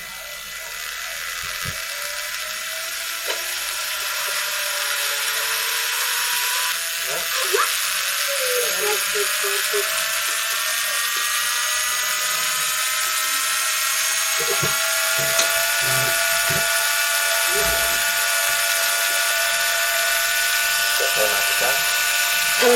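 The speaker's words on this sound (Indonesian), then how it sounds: "Conveyor dinyalakan." A PWM-controlled conveyor motor runs continuously with a steady, high electric whine whose pitch slowly rises as its speed changes, with faint clicks and knocks underneath.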